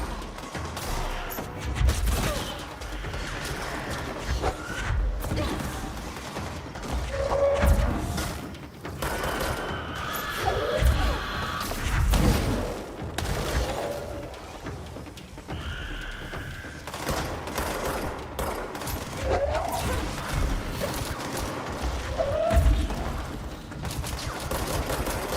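Repeated bursts of gunfire and sharp impacts from the action game Control during the fight against Dr. Hartman, busy and steady over about twenty-five seconds with mechanical clanks and occasional crashes.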